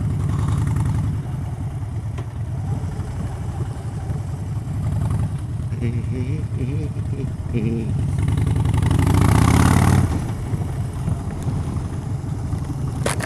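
A Harley motorcycle rumbles steadily while riding along a seaside promenade at dusk, a loud continuous low engine drone with a brief swell near the end.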